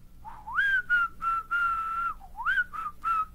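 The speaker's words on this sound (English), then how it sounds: "And remember, I can whistle." A person whistles a short, lively tune alone, clear and close, with sliding phrases and several quick separate notes.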